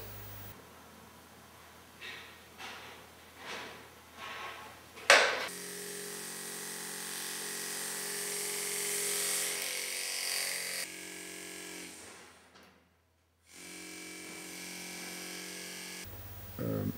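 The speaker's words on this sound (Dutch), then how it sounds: "Vervolgens worden ze geboord en daarna op maat gefreesd." Gemstones are drilled and milled to size: a few light tapping strokes lead into a steady high-pitched motorized whine that runs for several seconds, briefly drops out, then resumes, close and fairly loud with no talking.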